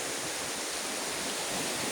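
Big waves roll onto an open beach at Niyugan, heard as a steady, full-bodied surf roar with no breaks and no voices.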